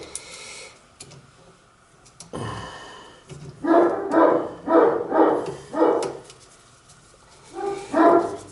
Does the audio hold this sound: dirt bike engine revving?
no